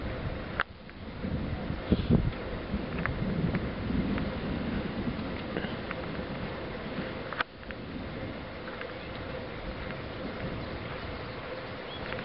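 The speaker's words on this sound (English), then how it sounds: "This wind is definitely from that direction." Wind gusts over a hilltop near a lake, a constant broadband rush buffeting the microphone, with a few sharp knocks and pops breaking through the steady roar.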